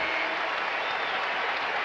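A crowd at a North Carolina basketball game applauding: dense, steady clapping and cheering fills the arena evenly for the whole stretch.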